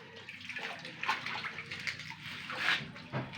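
A hot machete blade is plunged into water for quenching, giving a continuous sloshing, hissing wash with a couple of brighter bursts, close and fairly quiet with no talk.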